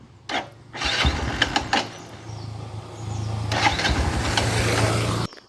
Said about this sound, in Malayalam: ഞാൻ സെൽഫ് അടിച്ച് കാണിക്കാം